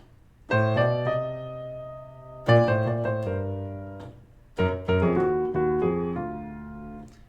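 Solo piano plays a short melody in three phrases, each note doubled a third below in the left hand, sustained chords ringing between phrases.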